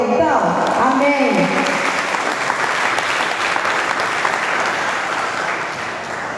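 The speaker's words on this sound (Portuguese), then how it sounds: "Você dá um aplauso a ele então?" Sustained applause from a church congregation during an evening family worship service, steady and dense throughout, with a voice speaking over the clapping at the start.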